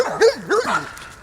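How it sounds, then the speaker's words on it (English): A loose dog barks twice in quick succession near a road on a backpacking trail in South Carolina, short loud yips close by, followed by a quieter whine as it tails off. "Oh, you be a good dog."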